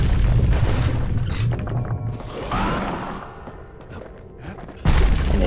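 A musket that behaves like a shotgun, fired in the video game Bastion, lands as heavy booming blasts, with a loud burst at the start and another near the end over a dense game soundscape.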